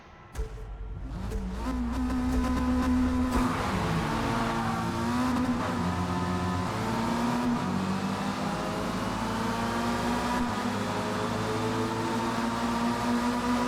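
Several race cars roar off the line together at the start of a race at Daytona in Forza Motorsport, engines revving and climbing in pitch as they accelerate, loud and continuous throughout with no talk.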